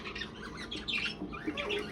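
Harsh show jumbo pigeon squawks and chatter at a bird market, overlapping faintly against a quiet background, several calls in quick succession.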